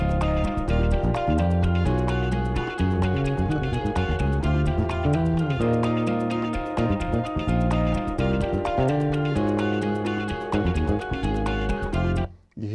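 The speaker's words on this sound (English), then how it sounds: "I grab my bass and I start recording a bass track" Bass guitar laying down an acid jazz groove during a studio recording session, playing along with a full backing track in a steady rhythm that cuts off abruptly at the end.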